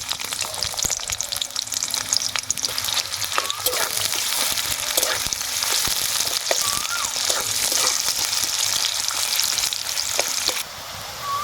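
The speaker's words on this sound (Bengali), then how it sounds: "এবার কেটে রাখা পেঁয়াজ একটু ভেজে নেবো আমরা" Chopped onion fries in hot oil with a loud, continuous sizzle and occasional stirring scrapes throughout.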